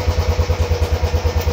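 A Royal Enfield Bullet BS6 motorcycle engine runs loud and close, its single-cylinder thump beating in an even, rapid rhythm.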